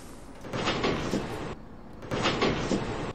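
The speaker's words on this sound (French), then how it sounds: "je l'admets que les bruits des portes sont pas encore au point" Bus doors in the OMSI bus simulator game sliding open and shut twice, each a pneumatic whoosh lasting about a second, close and fairly loud.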